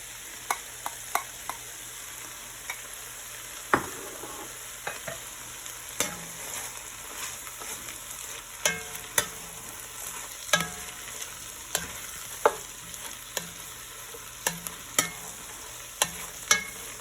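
Beef stir-frying in a pan with sauce, being stirred: a steady close sizzle broken by repeated sharp clinks and scrapes of the utensil, with no talking.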